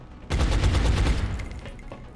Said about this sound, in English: Take the shot.